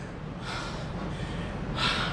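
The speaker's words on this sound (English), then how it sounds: "now take deep breaths again" A patient draws deep breaths during a chest examination, two audible inhalations with a quiet pause between them, faint and close with no speech.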